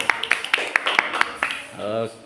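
A classroom group claps hands in a steady rhythmic beat, about eight sharp claps close by, followed by a brief voice.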